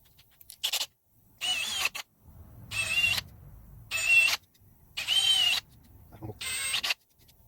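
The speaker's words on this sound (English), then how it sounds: "But we'll drill a bigger hole now." Five short bursts of drilling whine up and stop in turn, each a second or so long, separated by brief pauses and low rustling, while enlarging a hole in a laser-cut metal custom logo for a Camaro.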